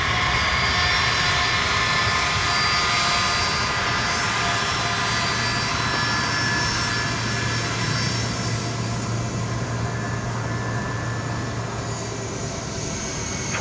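Jet aircraft taking off from runway 17 at Minneapolis–St. Paul Airport, a loud, steady engine roar with a faint whine running throughout, heard from nearby.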